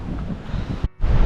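Strong wind buffets a microphone on the coast of Fuerteventura, a rough, blustery roar that briefly drops out before gusting back in.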